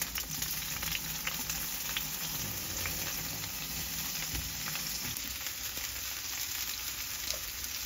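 Onion and tomato sautéing in a pan as the base for Filipino sinigang, a dense, even sizzle and crackle of frying that runs steadily throughout, close and moderately loud, with faint stirring.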